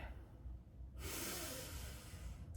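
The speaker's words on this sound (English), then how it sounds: "Let's take a deep breath in together" A deep breath in before a yoga sculpt session: a soft sniff first, then a long, loud inhale heard up close with no talking.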